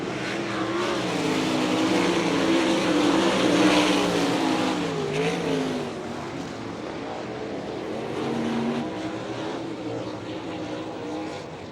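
World of Outlaws sprint cars race at Hartford, Ohio, their engines a loud, sustained roar that rises and falls in pitch as the field passes near the finish.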